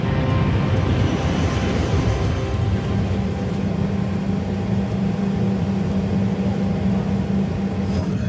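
A BAC 111 jet airliner climbing toward 23,000 feet with 81 passengers and 6 crew aboard, heard as a steady, loud cabin roar of engine and airflow that holds constant throughout with no break.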